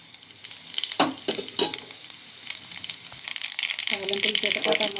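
Tempering spices for gongura dal crackle and sizzle in hot oil, with sharp pops early on, then a steadier, louder sizzle building toward the end, close and clear.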